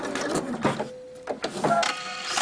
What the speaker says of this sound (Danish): Og jeg syr lige op til jeg når sømmerummet herop